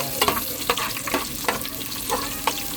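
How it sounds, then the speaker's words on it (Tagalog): Onion and garlic sautéing in a pan while munggo is being cooked, a steady close sizzle broken by several sharp scraping stirs spaced about half a second apart. "Nagigisa muna tayo ng sibuyas,"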